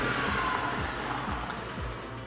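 A Ferrari SF90 Spider hybrid powertrain is heard from the cabin with a low, pulsing engine drone and a few rising sweeps, steady and moderately loud with no talking.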